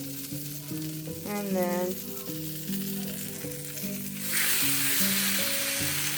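A thick slice of bread fries in a skillet, a soft sizzle under melodic background music that swells into a louder, fuller crackle partway through, with a brief spoken phrase.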